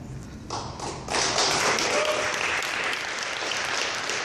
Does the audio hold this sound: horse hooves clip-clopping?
no